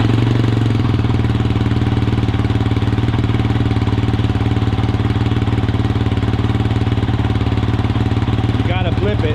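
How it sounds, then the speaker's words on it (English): A Kove 450 Rally motorcycle engine fitted with a straight-through exhaust runs at a steady, loud, close idle, a continuous throbbing drone that holds constant throughout, with a brief voice at the very end. "Let's hear this with this straight through exhaust."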